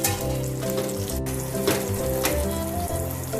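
Tadka for Gujarati-style dal dhokli, whole spices, chopped cashews and raisins frying in hot oil, gives a steady close sizzle and crackle with brief bursts of spitting.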